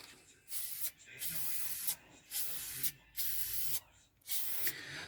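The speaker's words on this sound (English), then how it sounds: "we're spraying with a heat-proof spray paint" Aerosol can of heat-proof spray paint coating the underside and exhaust of a Rover, giving five bright hissing bursts of about a second each with short pauses between, close and loud.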